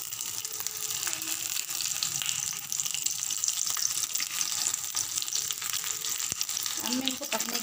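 Stuffed capsicum cooking in a little ghee sizzles steadily and fairly loudly from close by, a continuous hiss broken by faint scraping and a brief clink near the end.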